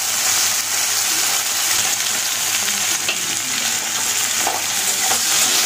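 Potatoes fry in a small amount of oil, giving a steady, close sizzle with light stirring scrapes running through the whole stretch.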